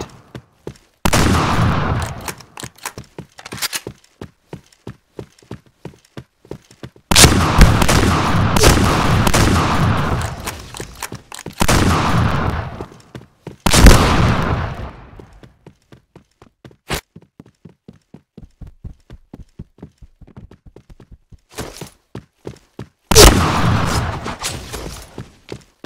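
Loud bursts of automatic gunfire in a shooter video game, several sustained volleys of rapid shots separated by spells of sparse single shots and quieter clicks, close and punchy with no talking.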